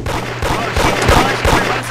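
Dense, rapid gunfire in a mobile pirate video game: a loud, continuous burst of close shots with heavy low thumps running throughout.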